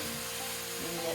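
Sliced radishes stir frying in a hot pan, a steady broadband sizzle running throughout with faint stirring and a soft voice underneath.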